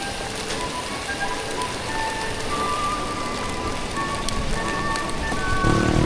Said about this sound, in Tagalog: Basta ng ulan.